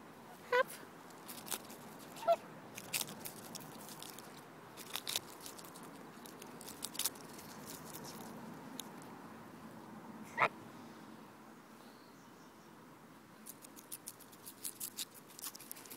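A goose bites and crunches romaine lettuce held in a hand, giving scattered short snapping crunches and pecks over a quiet background, with a person talking softly between bites.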